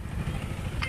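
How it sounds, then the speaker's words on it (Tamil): A Honda 49cc 4-stroke 2 HP petrol engine on a three-row paddy weeder runs with a steady, loud, rough mechanical drone that fills the moment without any speech. "இதோட இன்ஜின் வந்து பார்த்திங்கன்னா ஹோண்டா இன்ஜின், 4-stroke"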